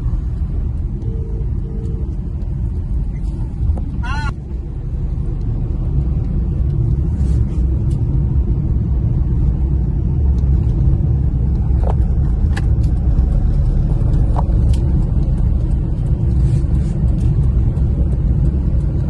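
Heavy road traffic with trucks and buses, a constant loud low rumble of engines passing close by, with occasional horn blips and clatter over the steady din.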